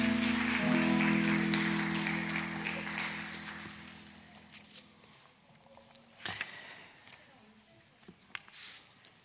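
A church congregation at a Sunday service in Sydney applauds the children, broad clapping that swells early over a sustained musical tone, then thins into scattered claps and rustling.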